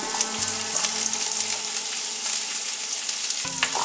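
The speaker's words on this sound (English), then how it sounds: "So you hear that sizzle?" Loud, steady sizzling of chicken stir-frying in a hot pan, with stirring clatter throughout and no voices.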